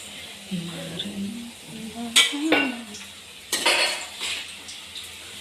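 Puris fry in hot oil in a home kitchen, a soft sizzle under someone talking, with two sharp clatters of a metal utensil against the pan.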